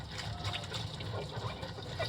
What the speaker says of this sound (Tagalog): banlawan nyo muna